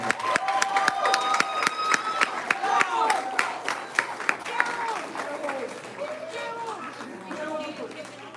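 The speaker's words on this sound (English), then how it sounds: "Big round of applause" Applause and cheering from a student jazz camp audience honoring young musicians on saxophone, piano and tenor, with scattered claps and chatter that gradually thins out and fades.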